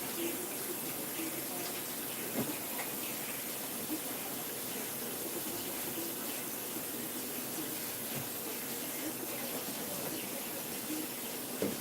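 Tap water running steadily into a container in a home kitchen, a continuous hissing gush that holds even and fairly loud throughout.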